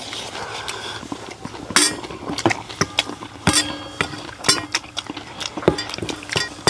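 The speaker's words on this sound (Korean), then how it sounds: "우연찮게 젓가락으로 뜨는데, 그 소리가 나네요" Chopsticks scoop radish rice cooked in a cast-iron cauldron, giving a string of small, close clinks and taps at an uneven pace. There is no talking.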